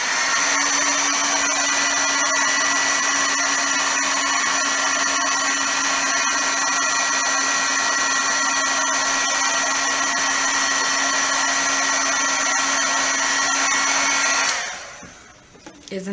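An electric heat tool for embossing a card blows with a loud, steady whir and a constant tone for about fourteen seconds, then cuts off and spins down.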